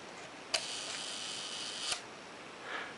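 A Rolleicord twin-lens camera's leaf shutter fires twice with crisp, close clicks about a second and a half apart, the second followed by a faint trailing whir, in a quiet room.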